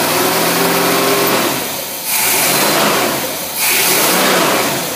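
An engine fitted with a Rochester dual jet carburetor revs at high RPM under light load, a loud sustained mechanical whine that dips briefly twice before climbing back, with no talk.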